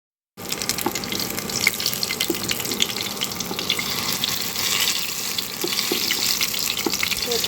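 Food frying in very hot oil on a stove that has just been switched off, a steady loud sizzle and crackle starting abruptly and continuing throughout, no talk.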